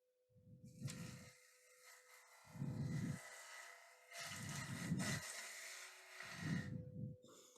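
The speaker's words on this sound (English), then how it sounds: "I come in on a bevel rubbing cut." Gouge cutting a log on a wood lathe in a bevel-rubbing cut, giving four separate bursts of rough scraping and rasping, each about a second long, over a steady faint whine from the turning machine.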